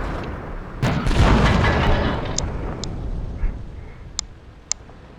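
An M53 self-propelled artillery gun fires a high-explosive shell in a video game: one heavy, booming blast that rolls away in a long rumbling tail, followed by a few small sharp ticks.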